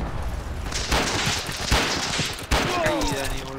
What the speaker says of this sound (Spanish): Uy, están disparando atrás.